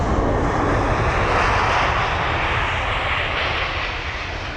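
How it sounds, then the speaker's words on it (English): Airbus A321neo arriving from Dublin on a smooth, nose-high landing at London Heathrow, its loud steady engine roar rushing past close by and holding strong before easing slightly toward the end, with no voices. "It's going to be the A321neo from Dublin, of course. Here it is, with a very nice smooth landing."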